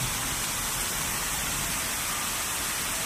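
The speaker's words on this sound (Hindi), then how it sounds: "बारिश हो रही है" Steady rain falls in rainy weather, a dense, even hiss of drops that holds constant throughout with no voices.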